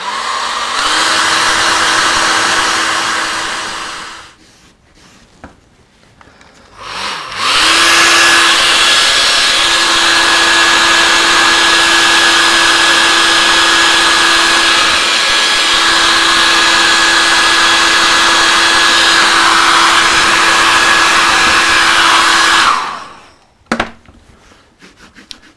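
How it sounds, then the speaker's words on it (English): A hair dryer melting wax on a carved wooden snail relief, a loud steady whine with a clear tonal hum, switched off briefly then running again for a long stretch before cutting out. "I put the wax on, and then I melt it with a hairdryer"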